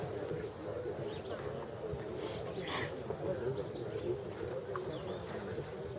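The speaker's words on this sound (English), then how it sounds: "Birds singing." Morning birdsong, including red-eyed vireos, on the Spotsylvania battlefield: light, scattered chirps and calls over a steady wash of background noise, fairly faint and somewhat distant.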